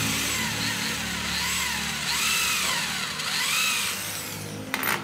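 A power drill whirs steadily for several seconds, its pitch rising and dipping as it drives screws into aluminum for a glass-and-aluminum cabinet drawer, ending with a short clatter.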